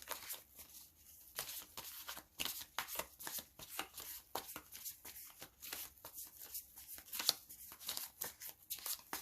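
Tarot cards are shuffled by hand, a close, soft run of rapid riffling flicks and slaps in irregular bursts, with a few sharper snaps as cards are drawn out.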